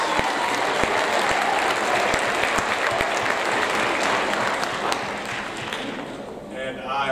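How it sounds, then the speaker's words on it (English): Audience applause for seventh grade students receiving awards at a school awards ceremony: dense, sustained clapping from a crowd that stays steady and loud before thinning slightly near the end. "If we could give them a round of applause for those."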